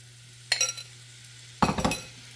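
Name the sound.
chicken pieces frying in a pan, butter garlic chicken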